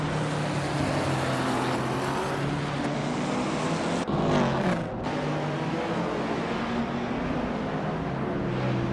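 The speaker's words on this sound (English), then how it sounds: "Leyung is driving a 1965 Cooper Type 61 Monaco in the vintage ultralights class" A vintage 1965 Cooper Type 61 Monaco in a racing video game, ultralight class, drones steadily at full throttle with a brief dip in the middle, loud and continuous with no voices.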